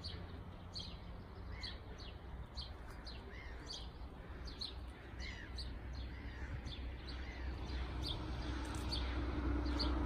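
Small birds chirp and tweet in repeated short calls around new residential buildings on an April morning in Poland, faint and somewhat distant over a low steady background rumble.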